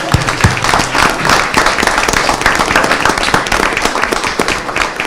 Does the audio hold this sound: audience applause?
yes